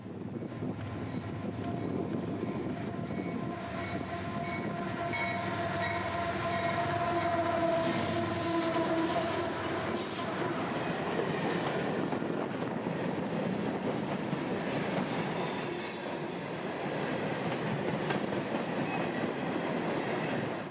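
A freight train led by two rebuilt CM44 locomotives rumbles steadily past nearby in Central Florida, wheels clattering and squealing, while a horn sounds in long tones partway through.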